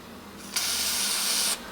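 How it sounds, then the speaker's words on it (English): Alcohol sprayed from a spray bottle onto a metal control rod of a NuTone Model 2081 stereo remote inside station gives one steady, close hiss lasting about a second. "So the first thing I like to do is I spray a little alcohol on it,"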